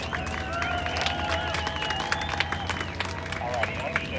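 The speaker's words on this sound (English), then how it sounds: "How about another huge round of applause for our REMAX skydiving team?" An outdoor air show crowd applauds and cheers a skydiving team, scattered claps rising over a steady hum of wind, engines and distant babble of voices.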